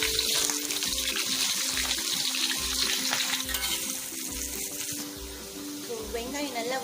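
Onions sizzle in a pan in a steady, crackling hiss, with a spoon scraping and stirring at regular intervals and a faint voice in the background.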